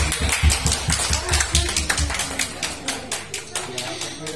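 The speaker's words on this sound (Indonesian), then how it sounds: "Sekali lagi, aplaus untuk diri kita sendiri." A classroom audience of students applauds themselves, a burst of uneven clapping that starts strong and gradually thins out, with voices mixed in.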